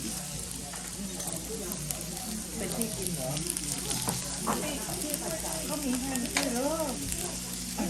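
Beef and pork fry on a hot pan at a lunch restaurant in Yufuin, Japan, with a steady close sizzle under a voice and other chatter.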